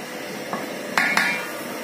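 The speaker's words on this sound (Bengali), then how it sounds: "আর একটু নাড়িয়ে দিচ্ছে।" Sheer khurma (semai) is stirred in a metal pot, and a spoon makes a few sharp clanks against the side: one soft knock and then two bright strikes close together over a quiet background.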